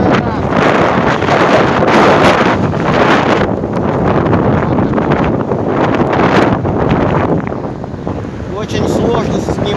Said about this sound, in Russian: Вот какой у нас ветер.